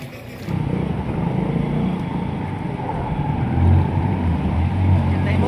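Vehicles drive through a rain-flooded road in Nanded, a steady rumbling engine and splashing water noise that holds close and loud throughout, rising slightly near the end.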